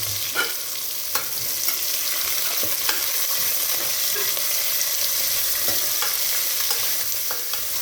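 Chopped onions fry in a pan with a constant crackling sizzle and intermittent taps and scrapes from stirring, close and alone with no speech.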